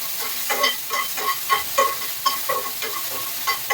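Tomato tempering (oggarane) sizzles steadily in a pan while a spoon stirs it in a quick, regular rhythm of scraping strokes. The stirring is close and clear, and no voices are heard.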